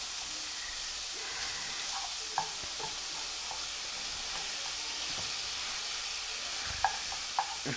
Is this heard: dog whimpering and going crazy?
no